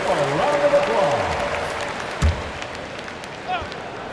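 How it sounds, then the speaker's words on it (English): Arena crowd applause in the NBA 2K25 basketball game, Bucks against the 1997-98 Bulls, a broad steady wash of clapping and cheering that swells early and slowly fades, with a couple of short thumps and some background voices. "Give yourself a round of applause."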